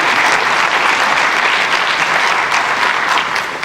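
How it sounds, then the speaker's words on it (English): Dense, loud crowd applause at a keynote event, a continuous wash of clapping from a large audience thanking sponsors, steady throughout. "could we please also give them a round of applause for making this possible?"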